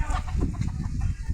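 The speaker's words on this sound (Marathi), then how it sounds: "इकडं बघा कोंबड्यांचं कसं काय आराम चाललाय" Chickens cluck close by on a farm, a steady run of soft, overlapping clucks and low murmurs with no talking.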